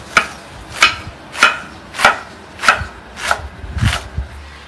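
A knife chops green onion and parsley on a board in seven evenly spaced, crisp, close thuds, roughly one every two-thirds of a second.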